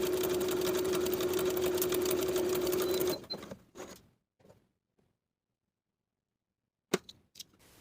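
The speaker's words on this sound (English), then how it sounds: "Sew the shoulder seams and the side seams with a 3/8 inch seam allowance." A sewing machine stitches bodice shoulder and side seams in a steady, close, fast whir with a faint hum for about three seconds, then stops, followed by a few soft handling rustles and a sharp click.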